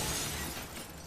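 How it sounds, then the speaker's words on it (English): Glass shattering in a Call of Duty match, a brief bright crash that fades within a second, close and fairly loud, alone without speech. "I'm breaking glass."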